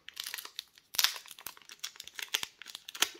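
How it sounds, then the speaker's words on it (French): Obsidian Flames Pokémon booster pack foil crinkles and tears in close, dense bursts of rustling, with a few sharper crackles and no talking. "3 boosters qu'on va ouvrir de suite."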